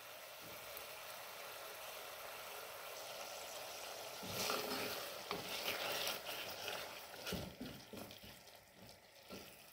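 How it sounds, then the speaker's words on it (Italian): Pasta e fagioli cooks over a low flame, a soft bubbling sizzle that thickens midway with stirring and watery splashes, close and fairly quiet with no voices. "A fiamma bassa lasciamo andare per 3 minuti."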